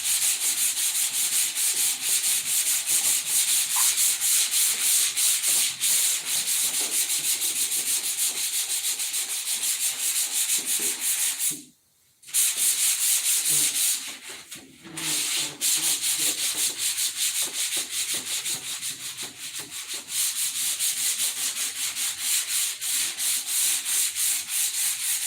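Steady, loud abrasive rasp of wood being sanded, running continuously with one brief break near the middle and a short dip just after it, with no voices.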